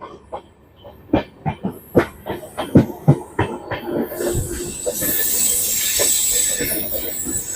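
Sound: Kolkata–Sairang Express train entering Murshidabad Junction platform

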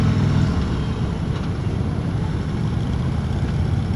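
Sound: 2016 Harley-Davidson Road King motorcycle riding

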